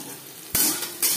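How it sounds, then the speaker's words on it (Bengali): Chopped onions dropped into hot refined oil with panch phoron in a pan for kosha alur dum, giving sudden bright sizzling bursts and a stirring scrape, two loud surges in quick succession. "15-20 সেকেন্ড 5 ফোড়ন ভেজে নেওয়ার পর দিয়ে দেব পেঁয়াজ কুচি।"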